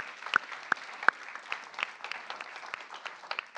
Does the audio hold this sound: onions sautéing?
no